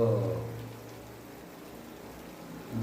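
Rain falling outdoors, a faint steady hiss of drops that stays even throughout, with low hum beneath and no voices.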